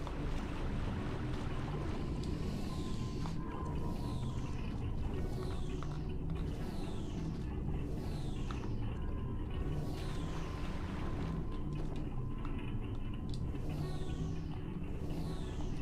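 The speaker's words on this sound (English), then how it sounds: "Oh god, here goes the boat." Boat gliding across water in Otogi: Myth of Demons on the original Xbox, a steady wash of water and low engine-like rumble with repeating descending whistling sweeps every second or so, continuous and alone.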